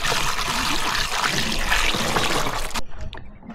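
Women in a desert village in Pakistan fill containers with water. It makes a steady, loud splashing rush that stops abruptly near the end, leaving faint background noise.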